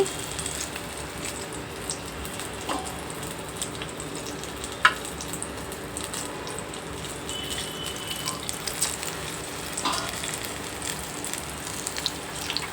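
Mirchi bajji deep-frying street-cart style in hot oil makes a continuous dense bubbling sizzle with occasional sharp pops and clinks, close and steady.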